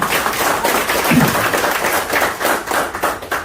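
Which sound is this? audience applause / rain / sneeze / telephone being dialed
audience applause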